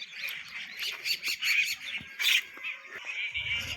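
Mynas call from a millet field, a run of sharp, chattering chirps and squawks in quick bursts, fairly close and clear, with faint rustling beneath and no speech.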